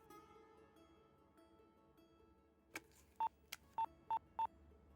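Four loud, evenly spaced touch-tone dialing beeps on a telephone come in quick succession after a couple of clicks, each short and clean over a quiet room background with no talking.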